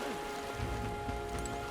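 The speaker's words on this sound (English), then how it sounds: "This bloody rain." Rain falls steadily in the video game Metaphor: ReFantazio, a dense, continuous hiss layered with low rumbling ambience and musical tones, with no speech.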